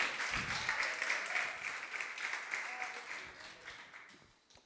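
A church congregation claps for a few seconds, a moderate wash of hands that fades away toward the end.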